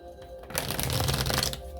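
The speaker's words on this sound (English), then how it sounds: "They said to go ahead and shuffle more." A burst of tarot card shuffling, a dense papery riffle lasting about a second, close and fairly loud, with quieter handling before and after.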